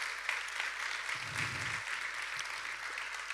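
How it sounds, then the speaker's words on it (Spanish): Fairly quiet, steady clapping from an audience welcoming four women, a brief low murmur near the middle and no clear speech. "Vamos a dar un fuerte aplauso a estas 4 mujeres."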